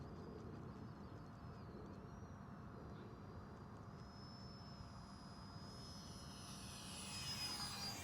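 A small UMX 30mm Viper FPV foam model plane flies outdoors with a steady high electric whine and shifting pitch over broad wind noise, swelling louder near the end as it passes closer.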